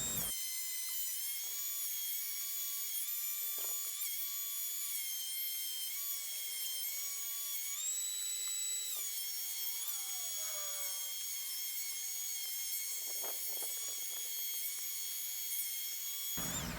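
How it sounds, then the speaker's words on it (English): A thickness planer runs continuously as wooden table legs are fed through it, giving a sustained high-pitched whine with brief shifts in tone and a few bursts of cutting noise, with no talking. "I'm going to run all my table legs through the planer."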